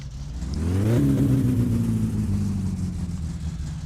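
Truck engine revving in the video game My Summer Car, with a loud rising rev that peaks, then settles back into a steady droning idle, with no talk over it.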